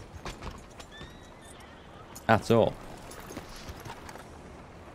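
A horse in Red Dead Redemption 2 gives a sharp, loud whinny near the middle of the clip, with hoof clops and faint background game sounds; someone speaks briefly.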